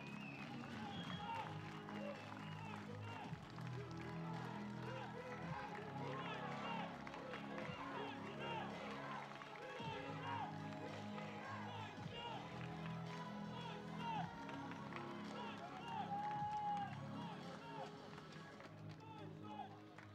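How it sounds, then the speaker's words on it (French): A stadium crowd at a blind football match, the Grand Prix France 2023 in Schiltigheim, claps in a steady dense patter that continues throughout, with a voice speaking over the applause. "allez on peut les applaudir bien fort s'il vous plaît"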